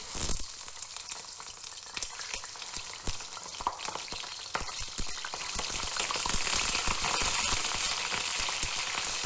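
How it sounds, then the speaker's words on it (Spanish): Chicken for a Pakistani karahi curry frying in a pan: a continuous crackling sizzle with sharp pops and spatters, growing a little louder and denser toward the end. "Mientras se va friendo nuestro pollo"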